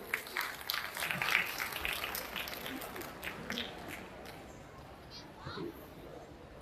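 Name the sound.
loud applause at Sambalpuri Day stage event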